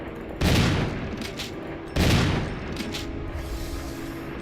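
Gunfire from Resident Evil 1 inside the mansion, two heavy booming shots about a second and a half apart, each with a fading tail, alone without talk.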